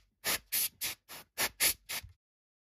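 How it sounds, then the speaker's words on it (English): Compressed air is blown onto the chapter ring of a CWC diver watch in seven short, sharp hissing bursts at an even rhythm, close and alone, ending in silence. "give it a shot of compressed air to blow away any dust or fibres"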